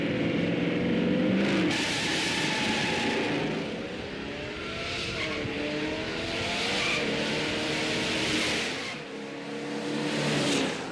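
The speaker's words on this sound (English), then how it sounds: "Got a little rattle in the muffler." A stock Boss 429 muscle car engine revs hard and accelerates in loud, sustained surges with shifting pitch, and a rattle from a loose muffler carries through the roar, with no talking over it.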